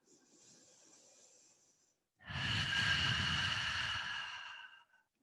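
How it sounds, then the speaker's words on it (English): Two close, audible breaths held through a side plank in mat Pilates, a softer airy inhale followed after a short pause by a longer, louder breathy exhale with no talking. "2 more breaths here"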